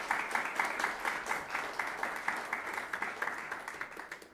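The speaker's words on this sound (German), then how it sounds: "Einen Applaus bitte" Applause for a pianist on stage at the ZfGM music festival, a modest crowd clapping in a steady, slightly rhythmic patter, heard from a distance and fairly quiet.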